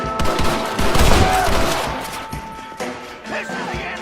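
A gunfight in the Western video game Red Dead Redemption, with a dense volley of overlapping shots and crashes that fades into a ringing tail, then a few quieter sounds.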